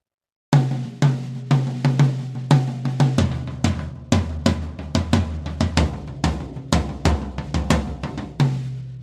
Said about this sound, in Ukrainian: Послухайте, як звучить барабан.